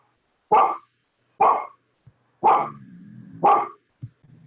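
A dog stands inside a house and barks four times in loud, sharp, evenly spaced barks close by, with a low whine between the last two and soft whimpers after.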